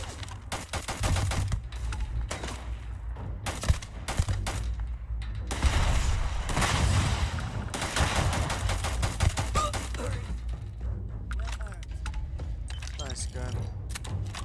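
Gunfire rattles in Starfield combat: rapid repeated shots and mechanical clatter across the clip, fairly close, with a player speaking at times.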